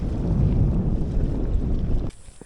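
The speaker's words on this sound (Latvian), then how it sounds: "te nav karsti, te ir vējaini, redzi?" Strong wind buffets the microphone in a roaring, gusty rush outdoors in South Africa, loud and continuous before cutting off abruptly near the end.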